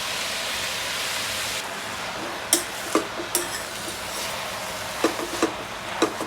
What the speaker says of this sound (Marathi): आता ह्याच्यात आळूची भाजी घालते. आणि ही चांगली परतून घ्यायची जरा.